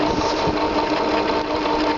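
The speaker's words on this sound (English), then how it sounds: "The other option was a 2-cycle engine." A small 2-cycle engine, an alternative to a 4-cycle 40cc generator, runs steadily with a dense, buzzing drone and rapid even firing, loud and close with no pauses.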